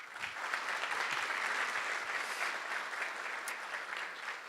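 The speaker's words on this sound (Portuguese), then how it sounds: "Uma salva de palmas, por favor." A lecture audience at a typography and editorial design event claps to welcome a speaker to the stage, producing a sustained, even wash of many hands clapping at moderate volume from start to finish, with no talking.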